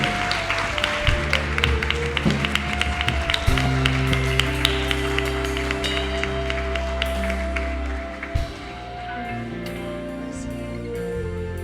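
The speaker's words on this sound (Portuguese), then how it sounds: "Aplauda bem forte ao Senhor" Congregation applauding in a church worship service, dense rapid clapping over sustained music for about eight seconds, then thinning out as the music continues alone.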